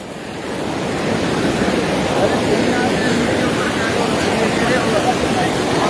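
Rushing river water in Rajouri runs as a loud, steady broadband roar with a windy, surf-like wash, building within the first second and then holding constant and close throughout.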